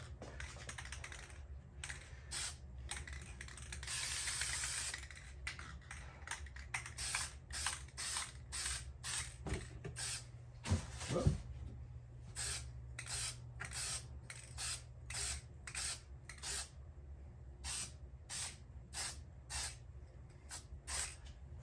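Short spray-can bursts coat a model train part for an O gauge Marx Commodore Vanderbilt, with a longer hiss early on followed by a regular run of brief sharp puffs, close and fairly loud.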